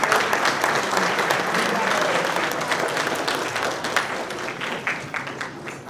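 Guests at the Armed Forces Committee of Worcester County annual awards dinner give legislators a dense, sustained round of applause that fills the room for the full six seconds, with faint crowd murmur underneath.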